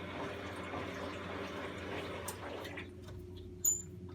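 Cold water rushes through the solenoid valve into a washing machine drum, a soft continuous hiss and flow that thins out toward the end, followed by a faint click, with no talking.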